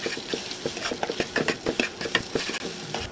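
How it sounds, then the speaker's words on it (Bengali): Two eggs sizzle in oil in a pan while being stirred, with rapid scraping and stirring clicks over a soft, steady frying hiss, close and fairly quiet, no talking. "এখন ডিমগুলো একটু হালকা ভেজে নেব।"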